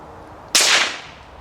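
A single sharp rifle shot with a moderator fitted, firing high velocity ammunition, cracks once near and loud and then trails off in a brief fading hiss.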